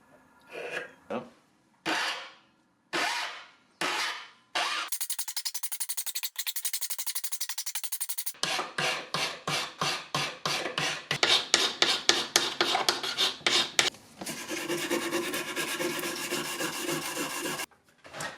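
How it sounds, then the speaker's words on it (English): Steel gouge surfaces being filed and smoothed before heat treatment, with a dented blank worked by hand. Rhythmic rasping strokes come close and fairly loud, in short separate pulls at first, then fast continuous runs of scraping. "before I do all the heat treatment, I just smooth out all the surfaces, slightly got rid of most of the dents"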